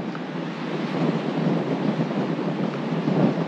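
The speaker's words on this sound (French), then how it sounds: "Il y a un vent de fou." Strong wind gusts past the microphone beside the Atlantic on the US east coast, a loud continuous roar with surf-like buffeting and no voices.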